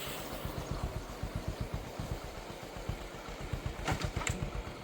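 A motorcycle engine idles close by with a steady, rapid putter of even pulses, continuing throughout with a faint rumble beneath.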